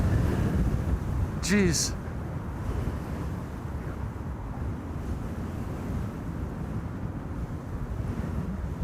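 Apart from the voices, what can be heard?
wind noise on microphone at Amsterdam Schiphol Airport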